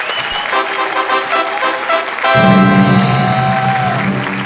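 Studio audience applause on a Marathi TV comedy show, a steady wash of clapping that swells and gives way to a loud musical sting partway through.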